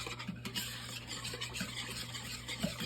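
A sauce seasoned with extra onion powder is whisked in a bowl, giving steady soft scraping and stirring with faint clinks of the whisk against the side, close and quiet, with no talking.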